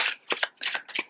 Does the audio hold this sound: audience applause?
no